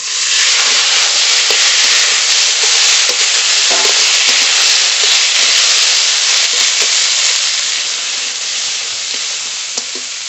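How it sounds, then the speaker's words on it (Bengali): Potatoes and bitter gourd fry in a pan with a loud, steady sizzle that runs unbroken throughout, alongside the occasional scrape of stirring and no voices. "আলু ভালো করে ভেজে নিয়েছি, এবার কেটে রাখা উচ্ছে দিয়ে দেব।"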